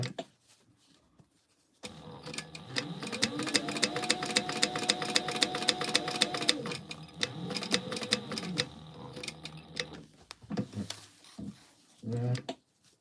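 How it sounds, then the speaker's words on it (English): A sewing machine top stitches a gingerbread house gift holder in a loud, rapid, rhythmic run lasting several seconds, followed by shorter bursts and handling noises, with a voice speaking nearby. "And now we're going to just top stitch that on"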